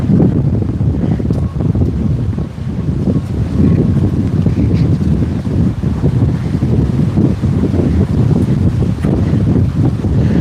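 Strong wind buffets a handheld microphone outdoors on a walk from Waikiki toward Diamond Head in Hawaii, a constant loud low rumble of gusts with no break for the whole stretch.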